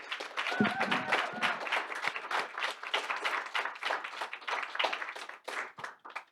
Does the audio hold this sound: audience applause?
yes